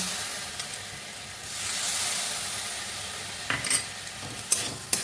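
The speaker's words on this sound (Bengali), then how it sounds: "গ্যাসটা হাই টু মিডিয়াম করে দিয়েছি আবার এবার নাড়বো আর একটুখানি জল দেবো" Spicy Maggi noodles stirred in a pan on a hob turned to medium-high, with a little water added: a steady soft frying hiss broken by a few sharp scraping clicks of the spoon near the end, no talking.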